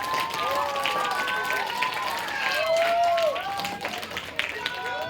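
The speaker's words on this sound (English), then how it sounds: "Students, overhead clap for all of them." Students clapping at a school assembly, crowd applause and cheering with many overlapping high voices, steady and fairly close, with talk mixed in.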